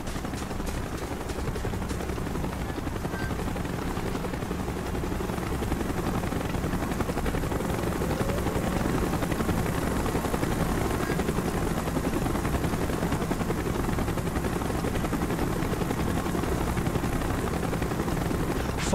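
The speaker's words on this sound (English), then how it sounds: "Chopper's inbound! Move it!" A helicopter in the video game Call of Duty Black Ops roars steadily and loudly throughout, a dense, continuous rotor-and-engine rumble heard alone with no talking.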